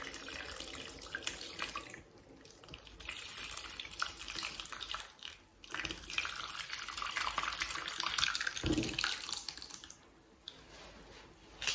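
Whey drains and trickles from homemade cottage cheese, a faint continuous watery pouring with gentle splashing that swells and ebbs.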